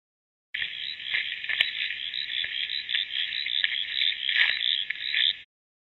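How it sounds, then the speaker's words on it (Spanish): A frog keeps up one steady, buzzing croak or trill for about five seconds, loud and close, with a few faint clicks mixed in. "Rana."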